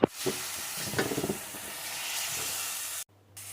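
Chopped onion and garlic hit hot oil with a sharp crackle, then settle into a steady sizzling hiss with some stirring clatter before cutting off.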